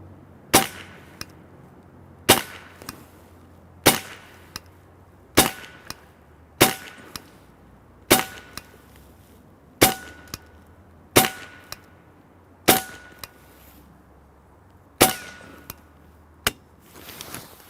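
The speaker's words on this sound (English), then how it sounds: "we had to shoot a couple pieces of our 50 cal brass on the table there" A .22 caliber (5.5 mm) PCP air rifle fires about eleven evenly spaced shots that strike pieces of 50 caliber brass on a table, each a sharp crack with a quick metallic ping and a short ring.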